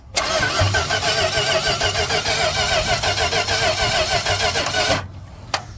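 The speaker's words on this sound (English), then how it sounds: "So ignition is off, there's no start. We're just going to be turning it over." Car engine cranked over by the starter with the ignition off, a steady rhythmic churning that runs loud and close for about five seconds, then stops abruptly, followed by a brief click.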